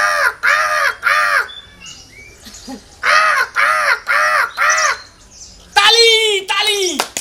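A human voice imitates a crow at daybreak with loud, close caws in quick bursts of three and four, a brief gap between groups and harsher calls at the end.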